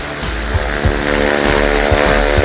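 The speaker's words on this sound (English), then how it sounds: "building up to what we call cruise control as far as the aircraft is concerned. So revving it up." A loud, steady electric aircraft motor whine drones continuously, revving up to around 18 kilowatts with a rising mechanical tone and faint rhythmic pulses, close and without voices.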